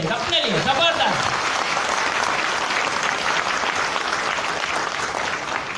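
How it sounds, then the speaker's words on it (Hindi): Loud, sustained audience applause fills the hall for several seconds at steady volume, with a brief voice over the clapping at the very start. "अपने लिए एक बार जबरदस्त ताली बजाइए"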